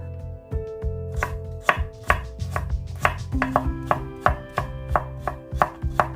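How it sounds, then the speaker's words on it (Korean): Steady knife chopping on a cutting board, julienning half an onion with quick repeated strokes in an even rhythm, close and fairly loud with no talking. "양파 반 개 채를 만들어줍니다."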